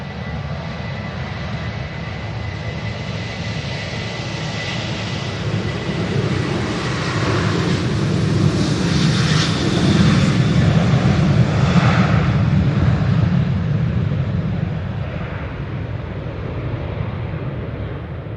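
An airliner comes in to land at Manchester Airport in a strong crosswind, its engines making a steady broadband roar that swells toward the middle and then eases, loud and continuous with no talking.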